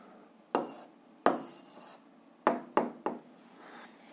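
A pen writes an answer to a school physics problem, heard as a few short scratchy strokes and taps on paper with pauses between them, close by and fairly quiet, with no talk.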